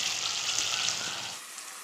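Mint and coriander sauté in a pan with a splash of water while chicken salna is being made. A soft, steady sizzle and bubbling hiss fills the short moment, faint and without talk.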